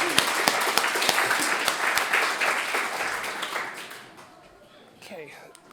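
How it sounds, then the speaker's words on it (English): Audience applause at a networking session in Inverness honors a presenter, a dense round of clapping for several seconds that thins and fades out, with a few faint voices near the end. "So can we please have a quick round of applause for Sharon?"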